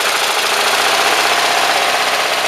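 The Vaper's 001 engine runs continuously while warming up, a loud, close, steady mechanical drone with a faint rhythmic knock underneath and no break.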